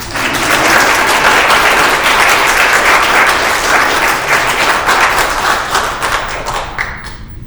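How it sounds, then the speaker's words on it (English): A council meeting audience breaks into steady sustained applause, dense clapping that holds for several seconds before easing slightly at the end. "You can applaud now."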